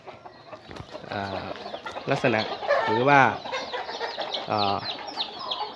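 Captive wild junglefowl in a cage crow several times, close and loud, the drawn-out harmonic calls rising and falling amid scattered clucks, with someone speaking briefly over them.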